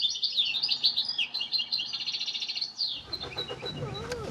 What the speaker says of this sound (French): c'est pas normal qu'il y ait un chardonneret qui chante sur un balcon